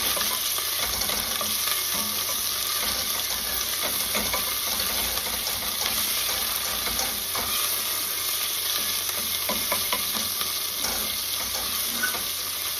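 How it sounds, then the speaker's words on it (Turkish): Ingredients for rice meatball soup sautéing in a pan, a dense continuous sizzle with faint scraping of a spoon stirring beneath it, close and steady throughout with no voices. "İyice kavuruyoruz"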